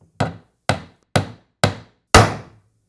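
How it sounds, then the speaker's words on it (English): A hammer strikes five times in an even, evenly spaced rhythm, each blow a sharp, close thunk that decays quickly, the last one heavier and ringing slightly longer. "And moving right along, we have a hammer."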